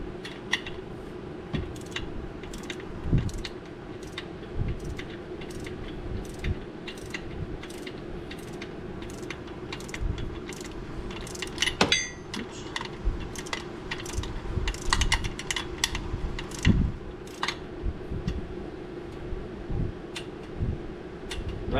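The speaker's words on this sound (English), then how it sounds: "We're going to go ahead and tighten these little bolts, and they're going to be 20 inch-pounds," Small bolts are snugged down on a Polaris General XP1000 clutch with a hand tool, making a long run of light rapid metallic clicks and ticks, close and fairly quiet, with a few sharper clinks.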